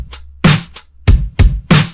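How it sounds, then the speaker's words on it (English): Short indie pop drum pattern built from an acoustic kick, a lo-fi snare and a hi-hat, giving a handful of punchy hits with light ticks between them, close and dry with nothing else heard. "And I put the 3 into a pattern that sounds like this."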